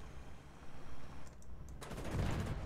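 Tank cannon fire with APFSDS shells in the War Thunder video game, a Freccia IFV in the mix, heard as muffled booms and rumbling blasts, fairly faint and distant-sounding.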